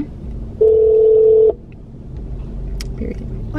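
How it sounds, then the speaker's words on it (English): A single sustained phone tone sounds loudly for about a second while calling a shop, followed by faint handset clicks and low background noise. "Now let me call the shop, because the nail."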